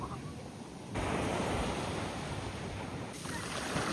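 Waves breaking at a beach in Trivandrum, a steady broadband wash of surf that swells louder after the first second and holds close and continuous with some wind noise, no voices.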